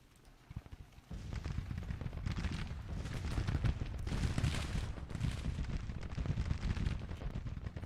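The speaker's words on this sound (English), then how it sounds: "Greg is taking artillery fire from our own guns." Repeated, overlapping artillery fire from Civil War cannons in the Grand Tactician: The Civil War strategy game, friendly guns hitting their own troops. A dense, rumbling barrage sets in after a quiet second and continues steadily and loudly to the end.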